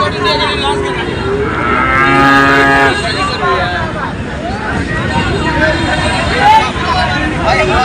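A young Holstein Friesian bull calf bellows in a drawn-out moo amid noisy cattle market chatter, with other cattle calling nearby and people talking throughout.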